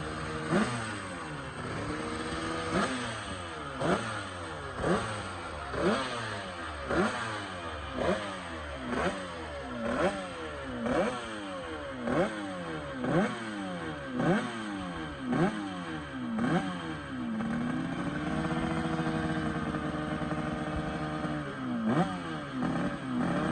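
A Yamaha TZ250 two-stroke GP racing motorcycle, its engine recently modified with sorted ignition and power valves, revs again and again in sharp rising bursts at a circuit, then holds a steady higher note before a few final blips.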